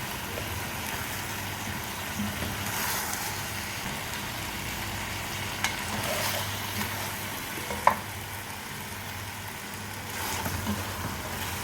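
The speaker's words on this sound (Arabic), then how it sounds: "تتشوح بقى وتاخد الجنزبيل كده والثوم" Chicken sautéing with ginger and garlic in a pan gives a soft, continuous sizzle with occasional scraping stir sounds and one sharper clack, steady and fairly quiet throughout.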